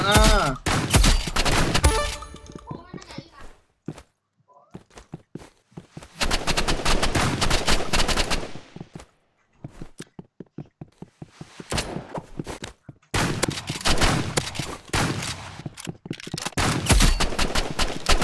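Rapid bursts of gunfire in the Roblox game Rivals, loud and close, coming in dense automatic volleys separated by short quiet gaps, with footsteps in between.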